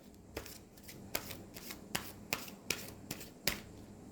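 Numerology card deck being shuffled, with a series of sharp, crisp card riffles and snaps spaced roughly half a second apart, close and fairly quiet with no talking.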